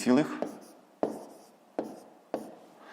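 Pen writing numbers by hand on paper for long division, with several short taps and scratching strokes at close range, following a brief spoken word at the start.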